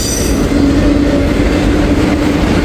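A train rips past at speed in Walton, a loud, continuous roar of wheels on rail with a faint squeal running through it, close by and alone.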